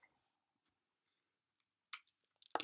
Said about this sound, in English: I need to cut my vinyl to 11